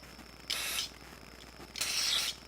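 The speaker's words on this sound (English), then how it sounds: "I'm just going to spray some carburetor cleaner through these little holes on here as well." Two short bursts of aerosol carburetor cleaner spray hiss through small holes in a Yamaha SUV 1200 carburetor, each under a second, close and fairly loud with quiet pauses between.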